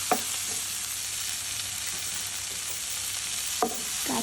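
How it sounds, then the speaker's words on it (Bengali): Onion frying in mustard oil in a pan, giving a steady close hiss of sizzling throughout, with a few soft stirring scrapes near the start and end. "এখন আমি ওই একই প্যানে আরও সরিষার তেল দিয়ে দিলাম পেঁয়াজটা দিয়ে একটু নাড়াচাড়া করে দিয়ে দেবো"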